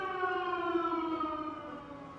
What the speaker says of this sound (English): I'm pretty sure that message didn't trigger the bloody air raid siren.